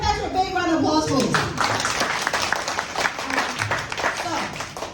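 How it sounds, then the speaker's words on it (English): An audience claps warmly in a dense, sustained round of applause that starts just after a brief voice and carries on steadily, loud and close throughout. "Give Patrick a big round of applause"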